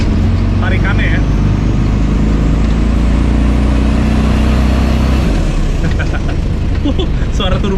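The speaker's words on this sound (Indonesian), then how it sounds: "Suara turbonya asik juga." A Toyota FJ40 with a turbo engine drives along, its loud engine drone and rising turbo whine steady throughout, with a faint whistle climbing and then falling away, heard from inside the cabin while someone talks.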